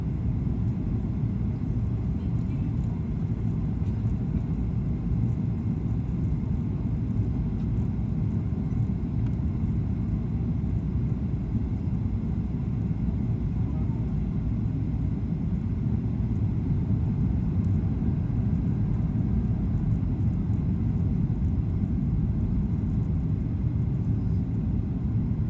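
A plane landing on runway 27 right: a steady, loud, low rumble with wind buffeting runs unbroken throughout, engine and airflow noise dominating with no voices.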